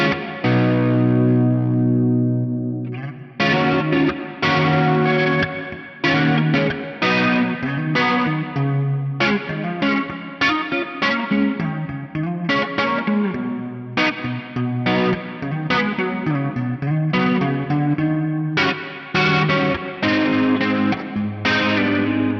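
Electric guitar run through a Fractal FM9's multi-tap delay set for uni-vibe and reverb: a loud, distorted, chorused line of rhythmic chords and notes with swirling modulation and a reverberant wash, and no talk.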